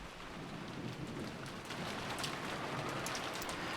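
Typhoon rain pours steadily in a visual novel game, a dense, loud wash of rain that lasts throughout with a faint rumble of storm beneath and no voices.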